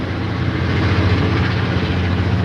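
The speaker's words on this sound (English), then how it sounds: "Man, that train loud." A loud train passing close by, a dense, continuous low rumble with steady rolling roar and no pauses.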